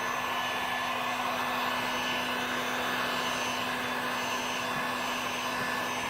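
Heat gun blowing steadily while shrinking wrap film on a 2017 Ford Mustang, a constant loud airy whir with a fixed hum, uninterrupted throughout.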